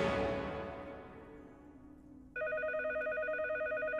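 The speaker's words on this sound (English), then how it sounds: "The cheese phone. Truly an emergency." A cheese-shaped phone in a Teenage Mutant Ninja Turtles cartoon rings suddenly after a fading sound, giving a loud, rapid warbling electronic trill that repeats evenly to the end.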